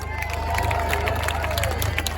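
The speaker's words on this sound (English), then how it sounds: "Massive round of applause for Debbie Hicks" A crowd at a London freedom rally cheers and claps for a speaker, a steady roar of voices with scattered hand claps under a low electrical hum.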